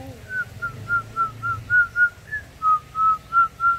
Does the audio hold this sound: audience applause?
no